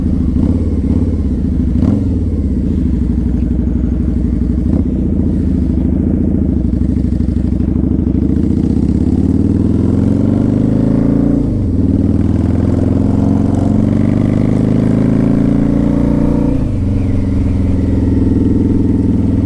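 A 2003 Harley-Davidson V-Rod's Porsche-designed V-twin, around 1130 cc, runs loud and close while riding, with a steady low engine drone that rises and falls through several gear changes and revs.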